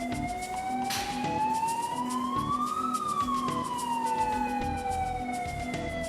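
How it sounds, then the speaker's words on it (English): Cement plant evacuation siren wailing continuously, its pitch rising steadily then falling back down in one long sweep, loud and steady with no talk. "If you are in the building when the evacuation siren sounds"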